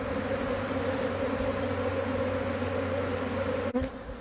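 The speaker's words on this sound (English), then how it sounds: "They're flying around still, but there's still bees coming in" Honey bees buzz around a hive after an inspection, a continuous, dense drone of many insects close by that holds steady throughout, with a brief knock near the end.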